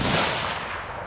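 A .30-06 rifle fires a single sharp, loud gunshot outdoors at a test range, the crack decaying quickly into a brief rumble with no talk over it.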